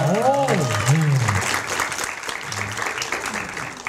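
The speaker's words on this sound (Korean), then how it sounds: "박수 한번 좀 부탁드리겠습니다." Studio audience at a Korean talk show applauding, dense clapping filling the clip from start to finish, with a voice speaking over the first second and a half and briefly again near the middle.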